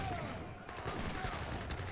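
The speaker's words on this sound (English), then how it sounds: "But my cannons are doing the work." Cannons firing in an Age of Empires III battle, a continuous stream of overlapping blasts and volleys heard at a moderate distance beneath general battle noise.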